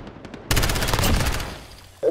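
Gunfire in Call of Duty: Modern Warfare, heard as a loud, close burst of rapid automatic shots lasting about a second, preceded by a few faint clicks and followed by another sharp report.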